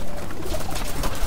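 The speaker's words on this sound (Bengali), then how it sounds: "এখানে পুরো 80 পিস কবুতর আছে" Pigeons at a loft holding about eighty birds, some perched on a roof, give soft low cooing murmurs amid steady bird chatter, close and continuous through the short stretch.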